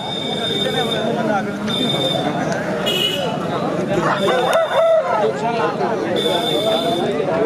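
Fighting roosters crow at a busy rooster market in G. Mamidada amid a steady crowd din, with people talking and bargaining close by throughout.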